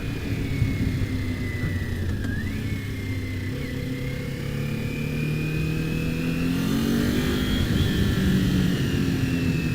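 A 2022 Kawasaki Ninja 400 KRT motorcycle climbs uphill on Mt Umunhum, its engine a continuous close drone whose pitch slowly shifts as it pulls, mixed with wind rush.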